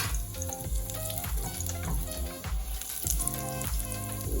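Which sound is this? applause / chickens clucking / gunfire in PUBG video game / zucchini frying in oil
zucchini frying in oil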